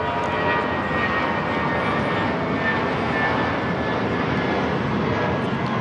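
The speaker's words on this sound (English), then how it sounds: "This is Spirit Airlines 693 taking off to Las Vegas on the A320" A Spirit Airlines Airbus A320 takes off from Los Angeles LAX bound for Las Vegas, its engines producing a loud, unbroken jet roar that holds steady for the whole stretch with no voices.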